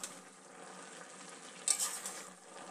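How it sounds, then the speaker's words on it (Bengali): Dried fish curry with Malabar spinach stems cooking down in a pan, a soft continuous sizzle with a brief louder scrape of stirring near the end, close and quiet, no voices. "এইবার একদম রস ভাবটা যাতে শুকিয়ে যায় সেই জন্য আমি নেড়ে নিলাম মাছটা ভালো করে"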